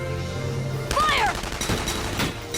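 Gunfire in Valkyria Chronicles 4 breaks out as a burst of sharp shots about a second in, and later cracks follow amid game sound effects.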